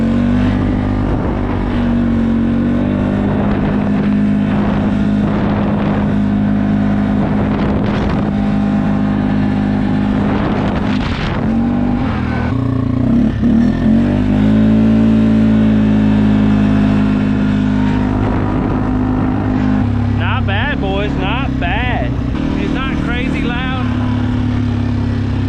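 Can-Am 450 XMR fitted with an HMF exhaust being ridden, its engine droning and revving up and down close by for the whole stretch, with rising and falling pitch sweeps.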